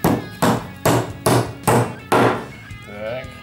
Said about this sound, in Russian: будет он забивать гвозди, этот молоток.